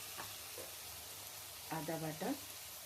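Garlic and ginger paste with tomato fry in a pan as a faint, steady hiss of sizzling, with a brief stretch of quiet speech partway through.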